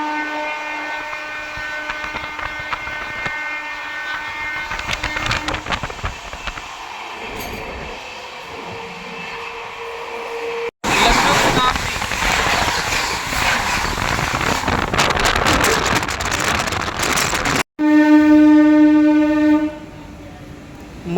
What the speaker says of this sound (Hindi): कोलारा रेलवे स्टेशन से बहुत ही धीमी गति से निकल रही है अपनी अमृत भारत ट्रेन